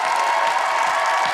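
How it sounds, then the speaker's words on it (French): Studio audience at a live entertainment show, the Djadel Show, cheering and applauding in a dense, steady wash of crowd noise with no pauses. "On peut l'applaudir"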